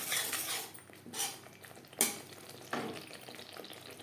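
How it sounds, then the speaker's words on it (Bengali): Whole spices (cumin, coriander, bay leaf, dried red chilli, black pepper and garam masala) being sautéed in a pan over low flame, with quiet frying, soft stirring and a couple of sharp spoon clinks against the pan. "4-5 মিনিট মশলা বেশ ভালো করে কষিয়ে নেব।"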